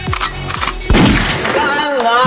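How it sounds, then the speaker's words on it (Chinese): Gunfire in a comic animated zombie-apocalypse cartoon, where zombies shoot with rifles: three quick, loud, sharp shots in succession, followed by an echoing boom and an animated voice speaking over it. "居然还会开枪，打得还踏马这么准"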